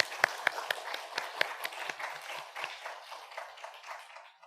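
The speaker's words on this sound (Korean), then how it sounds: "오늘 말씀 전해주신 우리 선교사님에게 박수해 주시길 바랍니다" Scattered claps from a church congregation at a Sunday Methodist worship service, applauding a visiting missionary; sharp irregular hand claps thin out into a softer, fading patter.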